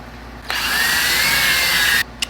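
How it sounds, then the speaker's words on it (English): A power drill reams out pre-drilled holes during an RV sewer hose storage install, running steadily and loud for about a second and a half before stopping, with a brief tap just after. "Let me see if I just try to ream them out a little bit without going up to the next size bit."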